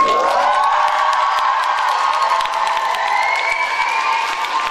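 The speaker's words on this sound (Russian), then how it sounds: "Ваши аплодисменты" A loud crowd at a university student performance event cheers, whoops and claps for performers of a history, communication and tourism faculty, a dense continuous roar of shouting with applause running throughout.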